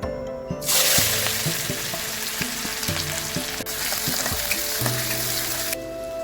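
Chopped tomato with ginger and garlic frying in a little oil in a pan for an Assamese taro-leaf and dried-fish dish, a steady close sizzle broken by several scraping stirs, with no talk.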